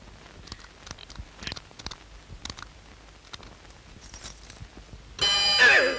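After quiet scattered clicks and knocks, an alarm clock abruptly bursts into loud, shrill, continuous ringing that lasts under a second at the end.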